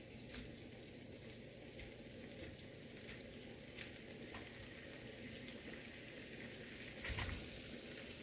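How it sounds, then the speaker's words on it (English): Tofu sautéing in olive oil in a pan, a steady, soft, close sizzle that runs unbroken, with a few faint crackles and one brief louder burst near the end. "I just want my tofu sauteed, not really fried per se"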